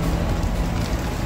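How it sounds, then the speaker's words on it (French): Steady rain falls outdoors in Portugal, a dense, even hiss of drops on surfaces that stays constant and fairly loud throughout, with no voices. "Deux jours de soleil et c'est reparti avec la pluie aujourd'hui."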